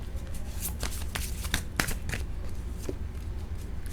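Tarot cards shuffled by hand at close range, a steady papery riffle broken by sharp flicks and snaps as the cards catch and stick, with no one talking.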